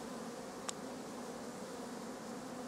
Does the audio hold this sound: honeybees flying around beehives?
yes